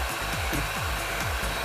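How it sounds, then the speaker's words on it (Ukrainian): Electric mixer whirring through mascarpone for tiramisu, a close, continuous buzzing drone with a repeating rhythmic sweep as the beaters move through the thick cream, with no voices. "як міксер змагається з рукою Аліни"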